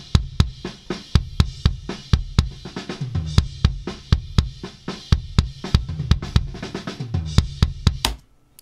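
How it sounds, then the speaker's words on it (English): Kick drum captured by a Shure Beta 52A microphone placed inside the drum, slightly off center from the beater, in a home recording studio: a steady run of punchy, consistent hits, close and loud, with faint cymbal wash between beats and no talk. "this is the kick in, so the 52A that's right inside the drum"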